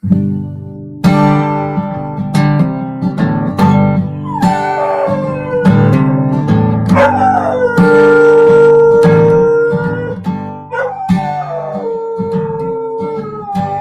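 A big dog howls loudly and up close in long, rising and falling wails, with several sustained howls sung alongside other tonal sounds over about fourteen seconds.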